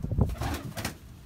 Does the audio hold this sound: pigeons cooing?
yes